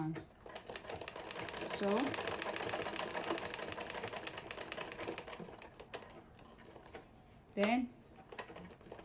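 A sewing machine stitches a zipper onto fabric and back-stitches it, giving rapid, rattling mechanical chatter in short runs that is fairly quiet, while a person briefly speaks.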